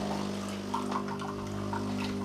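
A Philips EP2220 coffee machine dispenses hot water, a steady close pouring trickle over a constant low pump hum.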